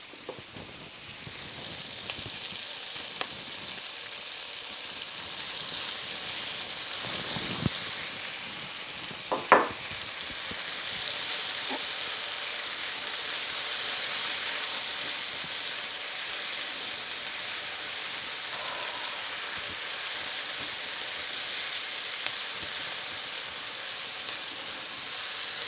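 Garlic sizzles in a pan with already cooked onions, a steady soft hiss like light rain throughout, with a few faint clinks and stirring taps.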